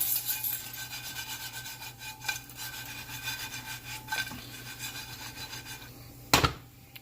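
Cauliflower pieces are stirred and coated with hot sauce in a pot, giving repeated close scraping and rubbing strokes with a sharper knock near the end, and no one speaks.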